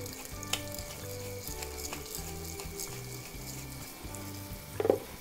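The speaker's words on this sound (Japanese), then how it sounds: "このえのきの軸をですね、こうシンプルにバターでですね じっくりとソテーすると" Enoki mushroom stems sautéing in butter, seasoned with salt and pepper, give a steady close sizzle with a light clink near the end.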